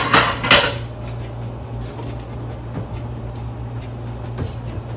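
Plates clatter and clink sharply twice at the start while one is picked from a stack, then a quiet room with a steady low hum remains, along with a few faint light knocks.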